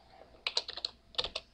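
Quick bursts of keystrokes on a computer keyboard, two short clusters of light clicks close by, with a quiet room underneath.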